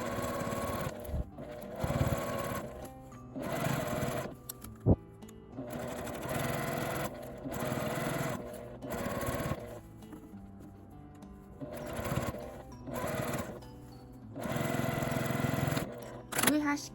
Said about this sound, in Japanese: 返し口の真ん中あたりから一周端ミシンをかけます